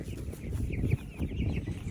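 Broiler chickens cluck and murmur close by in a short stretch of overlapping low, soft calls from several birds, with no talking.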